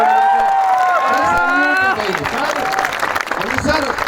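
An audience at an award ceremony bursts into applause and cheering, with a loud clatter of clapping under a man's raised, drawn-out voice, then claps and cries continuing as the voice drops away.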